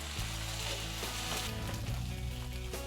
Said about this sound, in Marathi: हा टमाटा देखील आपण चांगलं परतून घेऊ मऊ होईपर्यंत